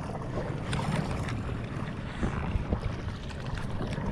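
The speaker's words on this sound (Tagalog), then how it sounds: "Taas ng hangin eh." Strong wind on open water during a bighead carp fishing trip, a steady roaring rumble of wind buffeting the microphone, with water sloshing against the boat and no speech.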